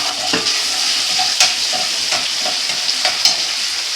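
Ginger garlic paste dropped into a hot pan with curry leaves, fizzing in a loud continuous sizzle broken by scattered scraping stirs and a few sharp utensil knocks, close up with no speech.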